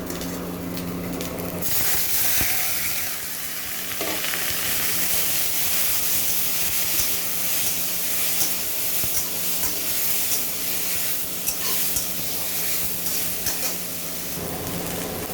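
Leafy dheki shak greens tipped into hot oil with fried garlic and nigella (kalo jeera) set off a loud, steady sizzle that hisses on without a break for the whole span, with no talking.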